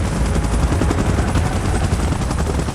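A helicopter in PUBG rumbles loud and steady, with dense rotor chop filling the sound throughout, and no voices are heard.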